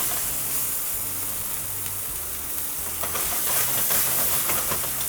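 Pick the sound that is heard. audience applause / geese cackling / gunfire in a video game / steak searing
steak searing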